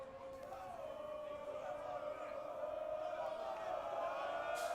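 Darts crowd at a university match between Sheffield and Hallam, a steady roar of cheering and voices from a packed hall, sustained throughout and swelling slightly toward the end.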